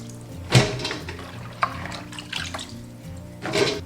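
Water running from a tap over fresh vegetables being rinsed in a sink before Sichuan pickling, with a few louder splashy bursts as the produce is moved under the stream, close by and without talk.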